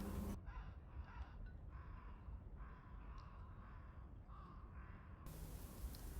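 Crows caw repeatedly across a spring beach at Sunset Beach Park by English Bay: several fairly distant calls in a loose series over a steady wash of wind and shoreline noise.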